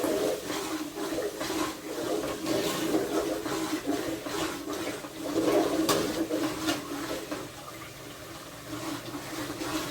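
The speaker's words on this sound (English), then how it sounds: "Just add some more water" Water poured into a pot of home-cooked stew, a continuous splashing, running stream lasting several seconds with slight surges, fairly close and with no talk.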